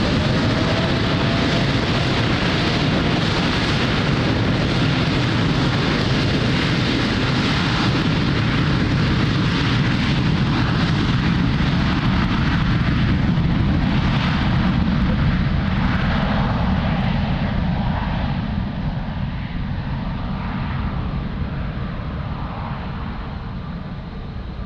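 An airplane on approach to Lisbon Airport, its loud, continuous engine roar filling the whole stretch and easing slightly toward the end.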